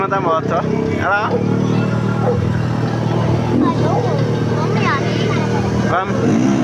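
Motorcycle ridden in a street stunt, with the rider standing on the bike in a crowded neighbourhood, its engine a steady rumble throughout under loud, excited talk and nearby crowd noise.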